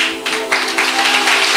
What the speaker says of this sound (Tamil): இந்த கைத்தட்டல் வந்து ஏதோ கும்மி அடிக்கிற மாதிரி இருக்கு.